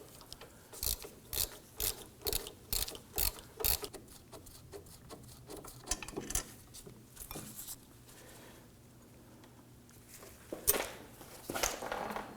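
Hand ratchet clicking in quick bursts as it loosens a brake caliper bracket bolt on a 2008-2011 Ford Focus front knuckle, close and crisp with short pauses between strokes, then a few scattered clicks and taps.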